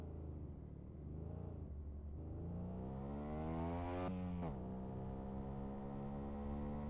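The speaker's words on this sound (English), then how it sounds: "Got two different mufflers on the back of it too, which does not help. That's probably why it sounds so silly." A car fitted with two mismatched mufflers idles, then revs up to a peak and drops back, its exhaust giving a throaty, slightly uneven drone close by.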